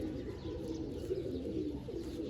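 Pigeons in a loft coo softly and continuously, low murmuring calls heard faint and steady without talk.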